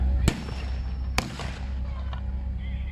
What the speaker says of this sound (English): So they've got a bazooka, which is a handheld anti-tank weapon, and they're going to deal with the half-track with that.